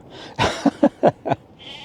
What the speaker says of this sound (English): Look, we've got a sheep come up to see us.